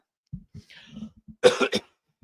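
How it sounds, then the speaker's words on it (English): A few soft throat noises, then a burst of two or three harsh, close coughs. "Still got my cough."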